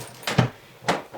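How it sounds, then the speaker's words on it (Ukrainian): A door with a lock cylinder being opened indoors, heard as two brief, close mechanical clicks and knocks about half a second apart in a quiet room. "Все, двері відкриті."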